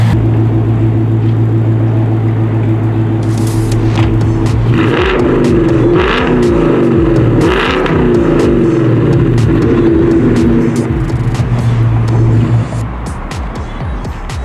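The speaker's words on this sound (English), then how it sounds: "you got to hear the engine, you got to hear the exhaust" A Ford Mustang GT 5.0L V8 (S550) rumbles loudly at idle, then revs up in several rising surges with a deep, throaty exhaust before settling back down.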